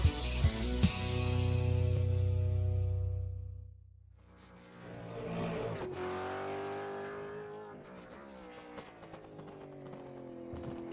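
A race car on a Manawatu Car Club winter series circuit does warm-up laps in qualifying, its engine droning loudly and steadily, then easing off before climbing again through rising revs as it passes by.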